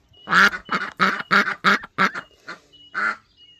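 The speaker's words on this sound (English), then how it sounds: "Super duck right outside my window." A duck quacks loudly and close by in a rapid series of nasal, raspy calls, trailing off into a couple of softer quacks.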